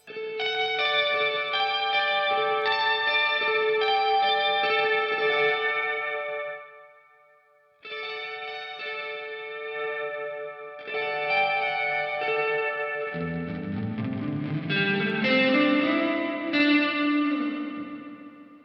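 Guitar through a JPTRFX Kaleidoscope reverb pedal, wet signal only: washy, heavily reverberated chords swelling and sustaining with no dry attack, pausing briefly, then returning with a shimmering, echoing wash that rises in pitch.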